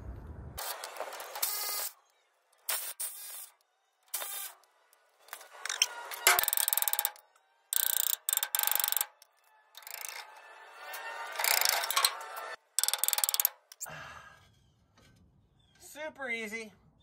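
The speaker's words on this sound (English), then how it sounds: "you can take these four bolts off and remove the entire back plate" A hand ratchet clicks in repeated bursts while removing the bolts of a rear brake backing plate on a 1988-1999 Chevy 3500 truck, close and crisp, with pauses and brief speech near the end.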